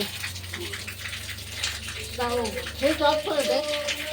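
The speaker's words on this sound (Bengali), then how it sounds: "ওই যে পাম্পের জল পড়ে যাচ্ছে" Pump water pours out in a steady, continuous gush, with people talking over the rushing flow.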